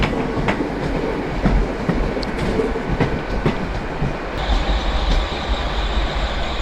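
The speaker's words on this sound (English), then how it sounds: "train pulling into Penzance station, last station in England" A train rolls into Penzance station in Cornwall, wheels clacking steadily over the rails with scattered sharp clicks and a thin squeal rising near the end, close and loud, with no talking.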